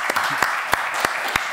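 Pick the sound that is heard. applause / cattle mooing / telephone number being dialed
applause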